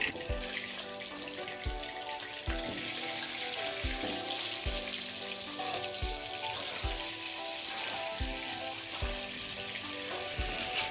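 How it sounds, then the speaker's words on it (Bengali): Papaya pieces fry in oil for a Bengali mutton curry, making a constant, moderate sizzle, with faint, evenly spaced low thumps in the background and no one speaking. "পেঁপেটাকে তুলে নিচ্ছি, ভাজা হয়ে গেছে"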